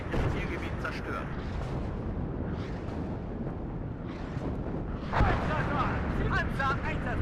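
Artillery and rocket barrages in the WARNO wargame rumbling as a dense, continuous wash of booms and crackle, with voices talking over the din.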